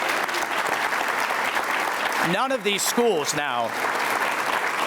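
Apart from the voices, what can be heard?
audience applause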